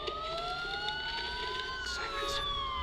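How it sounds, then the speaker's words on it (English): Police sirens wail in Batman Arkham Asylum, several rising and falling tones overlapping at moderate distance, with short bursts of clatter mixed in. "Sirens. The police."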